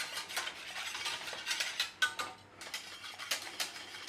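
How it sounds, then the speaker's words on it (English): A spoon stirring cheese into a corn flour sauce in a pan for a Welsh Anglesey eggs dish, giving quiet, irregular scraping and clinking strokes against the pan with no voices. "we're going to chuck some cheese in a little bit, stir it through"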